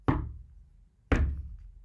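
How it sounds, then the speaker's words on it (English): Two sharp knocks strike a cottage door about a second apart, each a crisp woody thunk that decays quickly in a quiet room. "knock, knock at the door."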